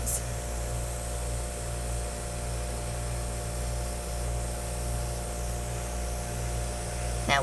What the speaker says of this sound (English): I still want to airbrush it out because I want to see what's going to happen when we blow some of this out